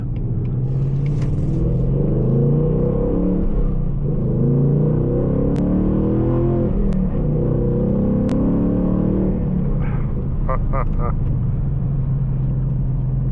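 A 2019 Ford Mustang GT rumbles and builds revs under half throttle acceleration while driving in the rain, heard from inside the car with a person talking over the engine.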